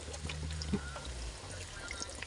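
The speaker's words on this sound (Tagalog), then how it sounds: "Magdadagdag din po pala ako ng Alaska Evaporada." Alaska evaporated milk pours into a pan of spaghetti pasta sauce with squash, a soft liquid stream trickling steadily and close for a couple of seconds with no talking.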